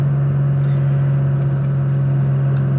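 A 2023 Toyota Tacoma TRD Pro towing a trailer up a steep hill, its engine a loud, steady low drone heard from inside the cab with constant road noise and faint clicks.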